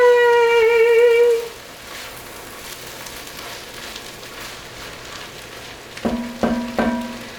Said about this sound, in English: I've got some caramelized onions over here